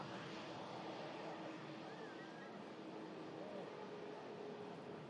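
A business jet at Manchester Airport during a storm, a steady distant engine roar blended with heavy wind noise, continuous and unchanging throughout.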